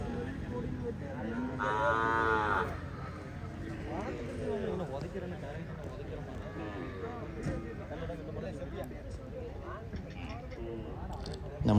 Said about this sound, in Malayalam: ഇതൊക്കെ നല്ല ക്വാളിറ്റിയുള്ള ഒരു കാങ്കയം പശുവാണ്.